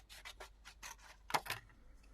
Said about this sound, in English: I'm literally just going to cut this straight up